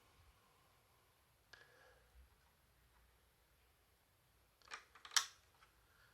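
A laptop RAM module snapping into its slot in a Toshiba Satellite, heard as a few quiet, sharp clicks close by in a near-silent room.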